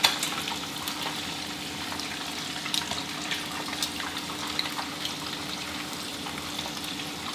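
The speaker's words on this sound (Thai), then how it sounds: "แค่เราทอดกุ้งกันนี้" Small shrimp frying in hot oil, a continuous quiet crackling sizzle with scattered faint pops, steady and without talk.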